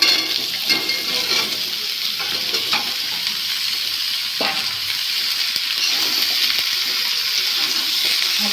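Ridge gourd and potato pieces fry in a hot pan for a Bengali jhinge chochori, with a steady broadband sizzle and repeated scrapes and clatters of a spatula stirring them, close and loud throughout with no talking.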